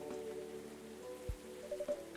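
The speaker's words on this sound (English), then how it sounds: "it was raining as hard as it is now" Steady rain falls outside a café in the video game Coffee Talk, a soft, even patter at low level with a faint low thump partway through, and no speech.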